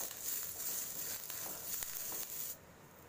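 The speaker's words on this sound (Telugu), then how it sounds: "పచ్చిమిర్చిని వేపుకోవాలి." Green chillies fry in a spoon of oil in a pan over a medium flame, giving a steady close hiss and sizzle that drops off sharply near the end.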